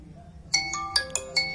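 Bright electronic phone ringtone from a Vivo Y35, a short melodic run of chiming notes beginning after half a second of quiet, played clearly and alone.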